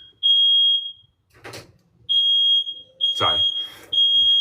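Piercing, steady smoke alarm tone sounds in three long bursts with short gaps, loud and close, while a few words are spoken and some brief noises fall in the pauses.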